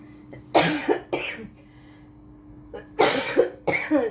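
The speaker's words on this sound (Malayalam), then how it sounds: "അയ്യോ ചുമ കൂട്ടുകാരെ ചുമ വന്നിട്ട് മാറുന്നില്ല" Several harsh coughs come in two bursts, close to the mic, separated by a quiet pause with a faint background hum.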